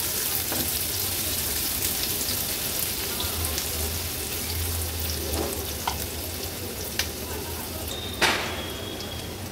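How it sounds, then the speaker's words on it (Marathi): Finely chopped onion and garlic frying in oil over a low gas flame, a dense continuous sizzle like rain on a surface, with occasional stirring knocks. "गॅसची फ्लेम लो करून कांदा आणि लसूण व्यवस्थित शिजवून घेते"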